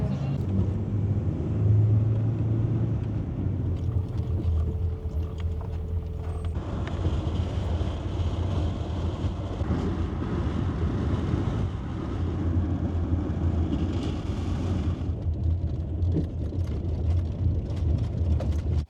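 Steady low rumble and rattle fill a train's dining car on the run from Zhabagly to Chymkent, a constant rolling drone with faint mechanical clatter and hiss throughout, without audible talking.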